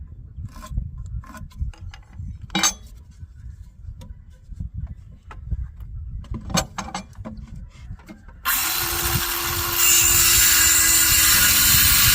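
A power saw cuts 2x4 lumber boards to length, starting after several seconds of light knocks and handling noises with a loud, sustained whining cut that continues to the end.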